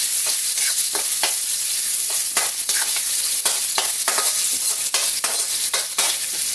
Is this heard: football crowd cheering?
no